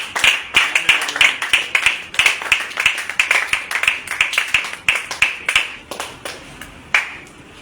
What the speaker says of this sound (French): je vais inviter sous nos acclamations Pasteur Elisa